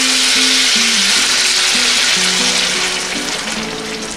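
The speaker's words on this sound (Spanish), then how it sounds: "ya miren vamos a poner nuestra salsita" Ground roasted tomato, serrano and garlic salsa poured into a pan of frying pork chops, a loud close burst of sizzling and spattering that gradually eases over a few seconds.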